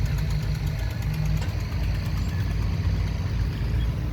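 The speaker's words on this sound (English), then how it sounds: "with a 6 horsepower Briggs & Stratton engine." A 1939 Sears and Roebuck antique 6 horsepower Briggs & Stratton engine runs at an outdoor antique engine show, a steady loud low chugging idle with a rhythmic knock throughout and no talk over it.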